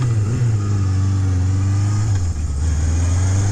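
A 1977 Honda CB750F Super Sport motorcycle engine on a test ride, a loud steady low droning hum holding near one pitch, with a brief dip partway through before resuming.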